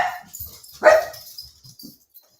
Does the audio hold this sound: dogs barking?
yes